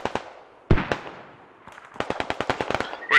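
Rifle and machine gun shots ring out in the Squad military video game, scattered single cracks at first, then a rapid string of evenly spaced shots, sharp and fairly close with echoing tails.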